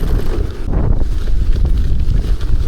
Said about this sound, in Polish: dzisiaj niestety tutaj dosyć mocny wiatr widzę